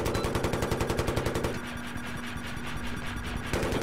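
Machine gun fire in a video game match: a loud burst of rapid, evenly spaced shots, then a steadier wash of gunfire noise.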